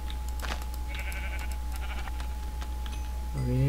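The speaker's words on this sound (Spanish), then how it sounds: "estas ovejas dan comida, cosa muy buena" Sheep in the Minecraft video game bleat several times, with short stacked tonal cries near the start and a longer, louder bleat at the end over a steady background hum.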